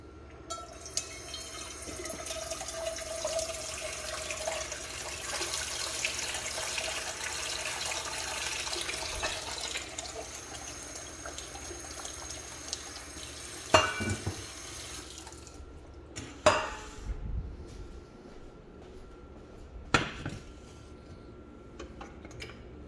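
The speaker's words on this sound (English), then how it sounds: "We're going to fill this with water" Tap water runs steadily into a pot in a kitchen sink, a continuous hissing stream that stops around the midpoint, followed by a few scattered clunks and drips.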